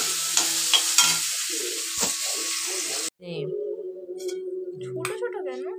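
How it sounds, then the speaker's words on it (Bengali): Potato curry (aloo chorchori) frying with panch phoron spices in a home kitchen, a soft sizzle under stirring clatter, with someone talking over it and a brief cut midway. "আলু চচ্চড়ি একটু বসিয়ে নিচ্ছি, পাঁচফোড়ন দিয়েছি"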